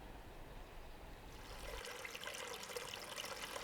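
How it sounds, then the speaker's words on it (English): Moving water trickles and splashes steadily in a garden water feature on a cold winter day, soft and close with no one talking. "the water in the water feature hasn't frozen. That's because it's moving."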